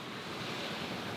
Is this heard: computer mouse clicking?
no